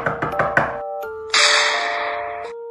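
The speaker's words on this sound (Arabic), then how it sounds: "رح جرب دق على الباب، اذا ما حدا رد رح اكسره" Knocking on a house door: a quick series of about five sharp raps, then a single knock, followed by a sustained bright noise burst under a steady tone.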